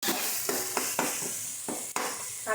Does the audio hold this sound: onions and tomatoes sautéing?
yes